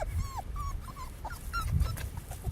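Beagle puppies whimper and yip in short, high, wavering cries, several overlapping close by against a low background rustle.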